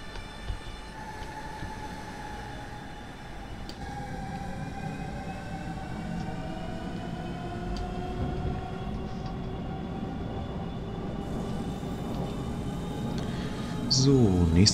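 A Hamburg S-Bahn BR 474 electric train runs steadily in Train Simulator 2018, with continuous rolling rumble and rising and falling motor whine throughout, plus a brief chime or squeal near the end.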